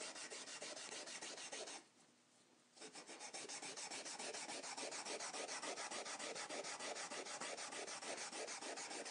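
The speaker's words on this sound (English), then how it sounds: "So I'm taking the burlap, I'm going against the grain, and I'm pushing" Burlap rubbed back and forth against the grain, pushing grain filler into the wood pores, makes a loud, close, rhythmic rasping scrub that stops briefly before resuming in quick, even strokes.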